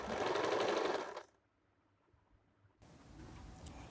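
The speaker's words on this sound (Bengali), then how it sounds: "ঠিক এই জায়গা থেকে আমি সেলাই করে নেব" A sewing machine stitches a seam on a sleeveless blouse, a loud rapid whirring run that stops abruptly, followed by a quiet pause and then softer handling noise.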